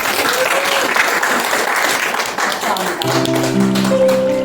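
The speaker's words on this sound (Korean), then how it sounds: "그럼 박수 한번 크게 부탁드립니다" Audience clapping at an actress's book concert, a dense burst of close applause that holds steady, with a musical tone entering toward the end.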